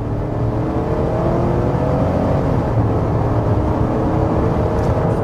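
A Chevrolet Tahoe in sport mode accelerates hard, its engine roaring steadily and loudly with rising drone and road noise throughout, no talk over it.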